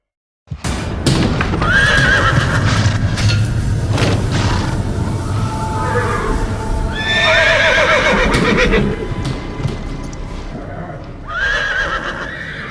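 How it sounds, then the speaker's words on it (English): A horse gives several loud, frantic neighs and whinnies, repeated in bursts over a dense, echoing backdrop with some clip-clop and thumps, set in a dramatized audiobook scene. "Frantic neighs echoed between the walls, and the horse dripped with sweat."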